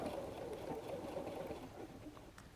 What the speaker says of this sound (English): And now I'm going to backstitch